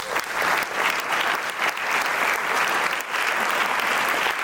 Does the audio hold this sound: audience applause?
yes